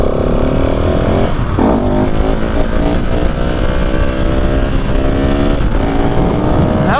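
A KTM 690 SMCR single-cylinder motorcycle revving hard through a wheelie on a back road, a loud, close engine roar climbing in pitch, dipping briefly at shifts, and rising again, without speech.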